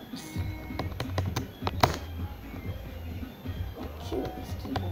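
Fast clicking keystrokes on a computer keyboard during gaming, close and uneven, with bursts of taps and a few heavier key strikes.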